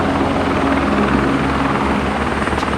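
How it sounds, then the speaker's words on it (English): Helicopter landing on a park field during an outdoor car show, its rotor chop and engine roar loud and steady throughout, filling the whole moment with no voices over it. "We got a helicopter landing on the field over there."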